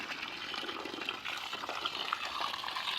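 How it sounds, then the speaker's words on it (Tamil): Steady rushing and splashing of water poured or sprayed onto banana plants in a garden, continuous and fairly close, with no voices. "இந்த வாழை மரத்துக்கு தண்ணி இறைப்படும்."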